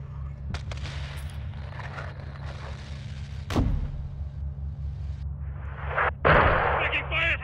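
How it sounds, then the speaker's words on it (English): Gunfire and explosions in the video game Call of Duty Modern Warfare 2 break out over a continuous low rumble, with a sharp blast mid-clip and another burst near the end. "Taking fire from the south, at the school!"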